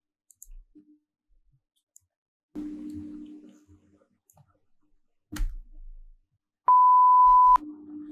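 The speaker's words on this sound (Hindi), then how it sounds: "अब हमको यहाँ पे भी एक बीप का साउंड लगाना है।" A sustained electronic beep sound effect, steady and loud for just under a second, stands alone among soft clicks and low hums in a motion graphics edit.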